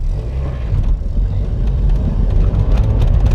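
A car pulls away hard on the gas after the clutch is dumped during stunt driving practice, its engine a loud, steady low rumble from start to finish.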